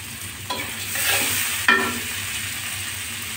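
Sliced onions with salt fry in a pan, producing a continuous close sizzle broken by a couple of scraping stirring strokes.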